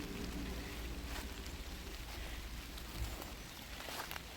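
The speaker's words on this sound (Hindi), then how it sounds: "थोड़ी थोड़ी बारिश पड़ गई।" Light rain patters outdoors in a hillside village field in Mandi, Himachal Pradesh, a soft continuous hiss with occasional faint drops and rustles, no voices.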